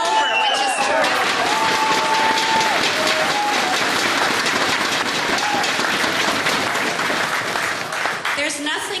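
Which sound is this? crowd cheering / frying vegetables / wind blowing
crowd cheering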